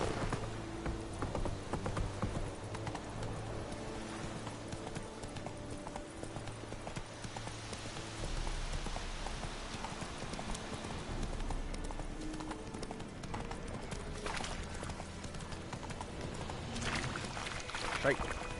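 Hooves of Geralt's horse Roach in Witcher 3 clip-clopping in a steady rhythm, moderately close, with game music and ambience running beneath and a speaking voice over the top.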